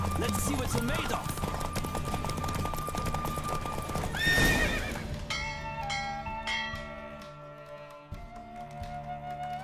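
Rapid rhythmic hoofbeats of a galloping horse in a Witcher horse race with a whinny midway, over layered game music with ringing bell-like tones.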